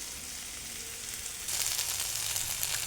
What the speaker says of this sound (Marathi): तुपात आता किस परतून घ्यायचं।